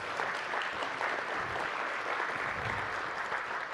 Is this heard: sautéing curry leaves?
no